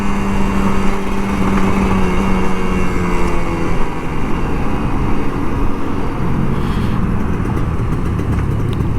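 An older Kawasaki Ninja RR 150 motorcycle rides on a commute, its engine droning loudly and close with a shifting pitch as the throttle eases on, with no voices.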